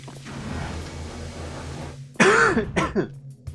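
A harsh, close throat-clearing cough after a stretch of low background hum, followed by a couple of shorter rough coughs.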